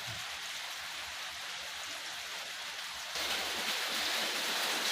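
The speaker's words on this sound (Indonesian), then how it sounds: "ini pas hujan, jadi ada hujannya pun cukup deras." Heavy rain pours down outdoors among potted succulents, a dense, steady hiss that swells louder partway through, with no voices.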